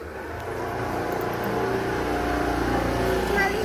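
An uncle's car drives along, a steady engine drone and road rumble that swells slightly toward the end, close by with a voice talking faintly in the background.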